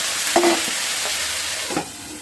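Potatoes frying in a pan on a home stove, a steady broad sizzle with a couple of brief stirring scrapes, close and moderately loud, no talking.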